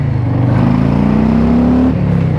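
A Harley-Davidson Fat Boy motorcycle engine accelerates on the road, a steady loud low rumble whose pitch climbs smoothly before easing back near the end.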